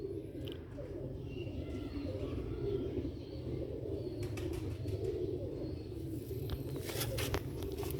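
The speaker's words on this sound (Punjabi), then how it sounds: "ਕਬੂਤਰ ਵੀ ਬਹੁਤ ਨਿਆਬ ਹੈ।" Soft repeated cooing from a rare Sialkoti pigeon, close by and steady, with occasional wing flutters and brief chirps over a low background rumble.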